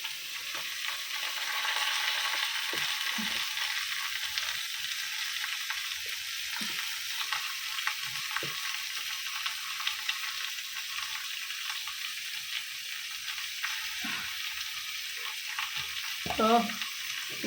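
Tomato and green chilies fry steadily in a pan for a Bengali vegetable curry, giving a continuous bright sizzle broken by a few soft stirring knocks and scrapes near the end.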